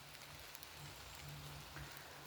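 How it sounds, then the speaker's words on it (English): Rain coming down outdoors, a soft, even hiss of drops on surfaces with a faint low hum beneath, steady and fairly quiet, no voices. "Oh, the rain's really coming down now I've taken my hood off."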